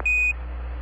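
A single clear electronic beep from the Apollo 11 lunar module computer alarm during powered descent, simulated in Orbiter 2010, high and steady, lasting about a quarter second before cutting off into low background hiss.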